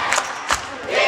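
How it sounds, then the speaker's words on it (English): Basketball crowd at a Hornets versus Butler Bulldogs game swelling into a brief roar of cheering, with two quick surges of noise through a packed arena and no clear voice on top. "A rise from the crowd"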